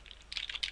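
Quick keystrokes on a computer keyboard while code is typed for a Unity 3D game, a short soft burst of clicks heard close and alone, with no talking.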